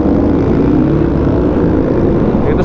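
A Yamaha Tracer 9 GT motorcycle fitted with an Akrapovic exhaust roars with a loud, close, continuous engine drone that holds steady throughout.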